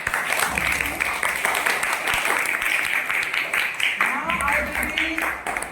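Students in a school classroom clap for a classmate, a dense patter of many small hands throughout, with children's voices and chatter mixed in.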